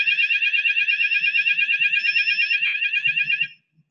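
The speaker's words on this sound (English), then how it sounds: "why don't you stop the alarm?" Fire alarm of an LPCB-approved in-panel fire suppression system sounding during a live product demonstration: a loud, steady pulsing electronic siren that runs continuously for several seconds, then cuts off abruptly, leaving faint low background noise.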